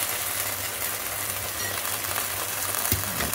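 A cabbage manchurian sauce of tomato sauce and soy sauce fries in a pan with a continuous low, even sizzle, close and fairly quiet, broken by one faint knock near the end and no talking.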